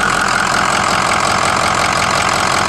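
A Ford 6.0 diesel engine idles with its stock 110-amp alternator, giving a loud, steady, dense mechanical rumble that holds constant and close throughout, with no voices.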